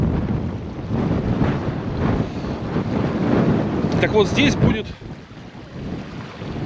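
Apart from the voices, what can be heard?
strong cold wind on the Taman coast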